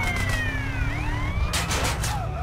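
A police car siren in the video game GTA San Andreas wails in rising and falling sweeps over a steady low engine rumble, with a brief burst of brighter noise partway through.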